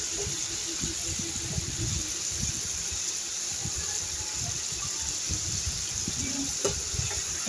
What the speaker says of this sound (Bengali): আমি মটনগুলোকে উল্টিয়ে উল্টিয়ে ভেজে নিচ্ছি